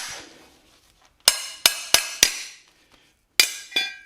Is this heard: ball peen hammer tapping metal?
yes